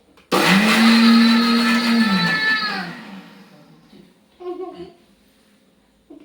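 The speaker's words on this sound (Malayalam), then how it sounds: "ഞങ്ങൾ ചമ്മന്തി ഉണ്ടാക്കാൻ പോവാണ് ഗൈസ്. മിക്സിയിൽ അങ്ങനെ വെച്ചു." A mixer grinder whirs loudly for a couple of seconds while grinding chutney, then spins down and stops, followed by quiet and a brief voice.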